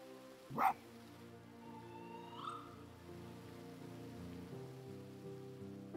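A fox barking in the Spirit of the North video game: one sharp, loud bark near the start, then a fainter high call, set against a steady patter of rain and soft ambient music.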